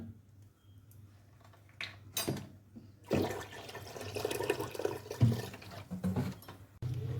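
A jug of water is poured into a pressure cooker of lentils for haleem, a steady gushing splash lasting several seconds over a low background hum.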